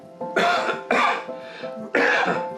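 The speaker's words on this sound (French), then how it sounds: "Vous toussez un peu." Three short, harsh coughs, close by, evenly spaced with brief pauses between them.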